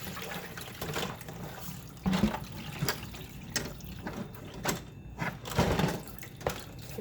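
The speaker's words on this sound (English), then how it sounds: "Give it a quick rinse." Running water splashes and rushes as parts of a Rise Gardens hydroponic unit are rinsed, steady flow broken by several louder gushes and drips, with no talk.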